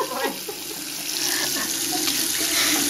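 Cold water runs steadily from a tap into a sink, a continuous close splashing stream with a faint voice in the background.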